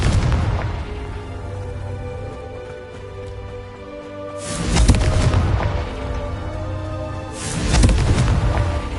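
Confringo spell blasts in the Hogwarts Legacy video game, two loud booming explosions several seconds apart over a low droning game background, with no talking.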